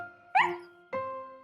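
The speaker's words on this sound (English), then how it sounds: "Just then, Snuffy started to bark." Cartoon dog from a Miffy children's show barking twice, close and loud, a sharp yelp followed by a second bark with a ringing tonal tail, no talk over it.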